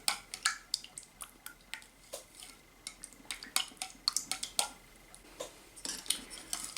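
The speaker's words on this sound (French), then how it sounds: "Maintenant, il faut bien mélanger le produit ensemble." A utensil stirs a hair oil mixture in a container, giving irregular clinks and scrapes in quick bursts, close and fairly quiet, with no talking.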